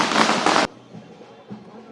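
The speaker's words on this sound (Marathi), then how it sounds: "फटाके वाजून आता जल्लोष साजरा करायला सुरुवात झालेली आहे" Loud crackling burst of firecrackers at a political celebration rally in Thane, a dense broadband blast lasting over half a second that cuts off abruptly, leaving a quieter background of crowd murmur and a faint later pop.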